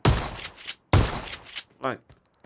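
Shotgun blasts in a first-person shooter game, two loud sharp booms in quick succession followed by a short whooshing game effect and faint clicks.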